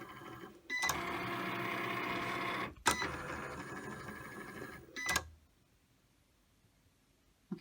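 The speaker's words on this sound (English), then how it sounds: "It's going to go across and score those 3 fold lines." A home craft cutting machine scoring three fold lines on card, its motor whirring steadily across in three passes separated by sharp clunks as the carriage changes direction, then falling quiet.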